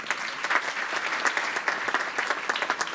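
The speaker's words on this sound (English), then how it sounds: "Give yourselves a round of applause." Graduating master's class of 2019 applauding themselves at a Glion commencement ceremony, a steady, full round of crowd clapping filling the hall throughout.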